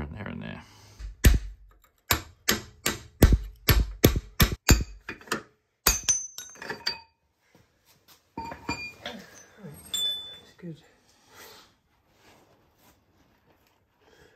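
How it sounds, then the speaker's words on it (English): Hammer blows on a steel punch drive out pins to reach the bushes, a quick run of about a dozen sharp metallic strikes, then scattered clinks and tool handling. "some of the pins can actually be removed with a hammer and a punch, and you can actually drive them out"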